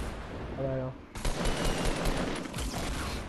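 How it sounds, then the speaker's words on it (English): Rapid automatic gunfire in Fortnite as a player shoots down incoming rockets, a dense loud burst of shots taking over after a brief tone, with excited voices nearby. "Joe, he's shooting down rockets."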